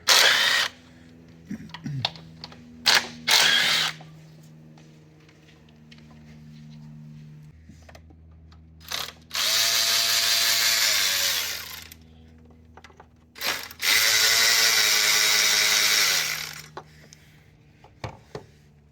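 Bursts of a power tool removing nuts from the valve cover of a 5th-gen Toyota 4Runner: two short whirring runs, then quieter clicks and handling, then two longer loud buzzing bursts with brief pauses between.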